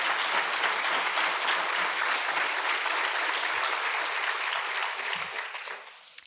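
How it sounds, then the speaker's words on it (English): Sustained applause from a university audience in a hall, honoring college deans at the University of Houston Downtown; steady, dense clapping that holds for several seconds, then tapers off toward the end. "Give them a round of applause."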